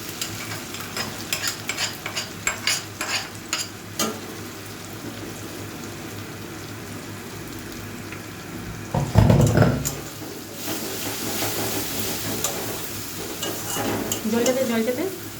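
Chicken curry masala sizzles and fries in oil as turmeric and chili powder go in, with a steady soft crackle, a spoon stirring and scraping the pan, and a brief louder burst of sizzle midway.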